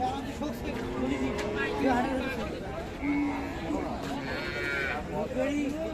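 Cattle moo repeatedly at a livestock market (haat) where a Friesian cow with calf and a young bull are on sale, the drawn-out calls rising over crowd chatter while someone speaks close by.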